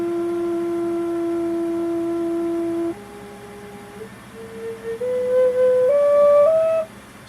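Homemade Native American-style flute carved from a sunflower stalk, playing a sustained low breathy note, then a lower one, then stepping upward through higher notes, each held for about a second, solo with no talking.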